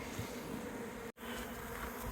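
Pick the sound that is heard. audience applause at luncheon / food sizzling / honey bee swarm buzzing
honey bee swarm buzzing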